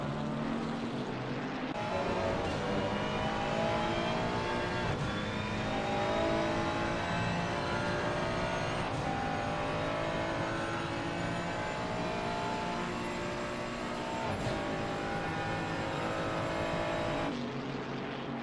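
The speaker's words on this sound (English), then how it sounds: "The Bentley trying to chase down the Ferrari 296." A Bentley and a Ferrari 296 race car at Imola, their engines droning steadily and loud throughout, with rising and falling revs and shifting pitch as one chases the other, no voices over it.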